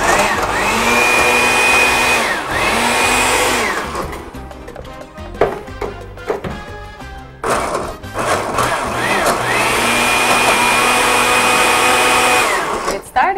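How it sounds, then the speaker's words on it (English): A blender runs loud and steady, whirring through a seasoning mix for curry goat. The motor pitch dips and stutters midway as the blades catch on the chunks, then it climbs back to a high sustained whine. "So I'm just going to blend this in here."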